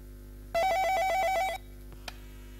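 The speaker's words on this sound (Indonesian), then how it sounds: "Oke, Meng, kita tahan sebentar, kita terima line telepon yang dari rumah dulu" A telephone rings with an incoming call during a televised Indonesian public dialogue show ahead of the 2014 legislative elections: a single close, loud burst of trilling electronic ringing about a second long over a low studio hum, followed by a faint click.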